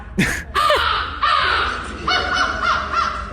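A man mimics a loud American crow call with his mouth, giving a few harsh, nasal caws in quick succession, close and clear with no talk.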